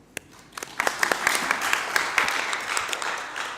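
Applause at a civil society engagement briefing, starting with a few scattered claps and swelling into steady clapping from a small audience, moderately close, with faint voices underneath.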